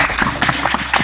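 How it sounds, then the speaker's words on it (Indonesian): A classroom group gives a short burst of clapping, a few quick claps close together with a slight chatter of voices underneath. "boleh aplaus kepada kelompok 1"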